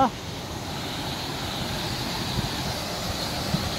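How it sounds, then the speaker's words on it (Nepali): A mountain waterfall pours in a steady, even rush of water, a constant broadband roar at moderate distance with no voices. "यहाँ झरना बबाल छ, बबाल पानी"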